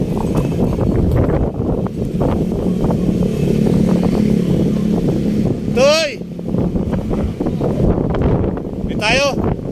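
Strong wind roars and buffets the microphone during a bike ride through Metro Manila, a steady loud rumble that almost never lets up, with people talking over it and a couple of brief whistling chirps.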